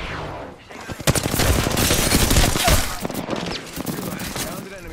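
Rapid automatic gunfire rattles in the Apex Legends video game on PS5, with dense bursts of shots and impacts over several seconds, loud and close, while a player talks over the action.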